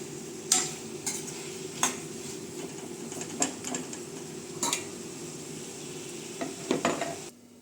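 A spoon stirs chicken curry with tomatoes in a pan over a faint sizzle, with occasional sharp scrapes and clinks against the metal, close and fairly quiet.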